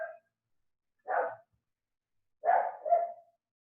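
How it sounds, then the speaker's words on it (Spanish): A dog barks in short bursts: a single bark, a pause, then a quick double bark, at moderate distance in otherwise quiet surroundings. "por aquí hay un perro ladrando"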